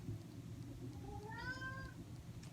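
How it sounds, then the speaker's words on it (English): A single faint meow rises and falls over a low background rumble, sounding somewhat distant. "Cat says meow."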